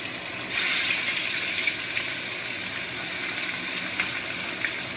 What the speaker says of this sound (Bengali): আগে গালার মাছগুলো ভাজি